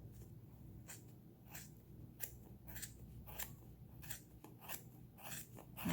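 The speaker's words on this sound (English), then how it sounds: "I'm going to take my scissors and I'm going to work around the groove." Not-very-sharp scissors cut yarn around the groove of a 3D-printed pom-pom maker, making a quiet run of repeated crisp snips in an uneven rhythm.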